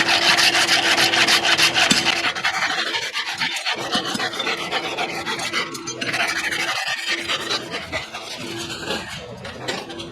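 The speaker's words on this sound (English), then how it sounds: "hot rasping's a great way for them to learn how to use a rasp without messing up feet" A farrier hot-rasps a horse hoof with a rasp, giving steady, loud scraping strokes that run nearly the whole time, with a faint mechanical hum underneath.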